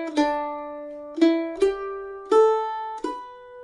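Mandolin picking one bar of the Scottish tune Marie's Wedding, five bright plucked notes in a lilting rhythm with a long first note, played close and alone.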